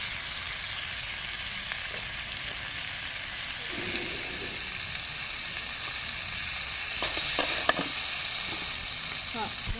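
Chickpeas and potatoes fry in hot oil in a village kitchen, a steady close sizzle running throughout, with a few clattering stirs near the end.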